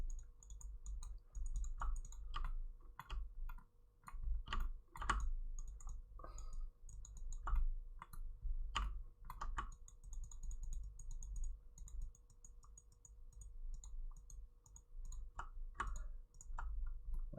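Mouse clicks and keyboard keystrokes while sculpting in Blender, as irregular clusters of sharp, close taps over a steady low hum, with no voices.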